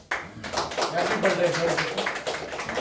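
An audience claps together at a birthday celebration, a dense, steady burst of applause that starts abruptly and carries on for a few seconds, with voices mixed in.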